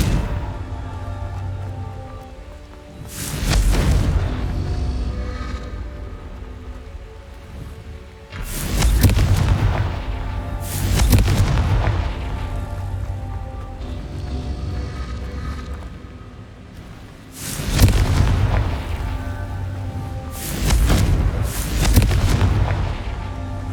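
Heavy booming blasts from the Confringo fire spell in Hogwarts Legacy, five or six loud explosions spaced a few seconds apart, each with a rumbling tail over a continuous ambient bed.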